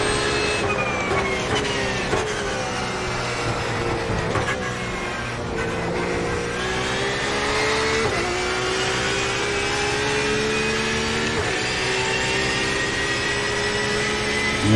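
A high-pitched Porsche 911 RSR race car engine in the iRacing video game, practicing at Le Mans, screams steadily, its pitch climbing and dropping through gear shifts, loud and close with no voices.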